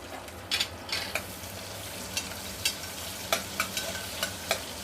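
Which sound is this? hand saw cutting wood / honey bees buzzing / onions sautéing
onions sautéing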